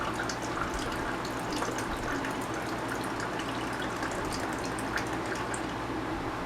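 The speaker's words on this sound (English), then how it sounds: "wet your hands and wash them, and that stays on long enough for you to rinse soap off of it" Water runs steadily from a battery-powered pump faucet, a soft, even trickle and splash with faint dripping, heard close and alone.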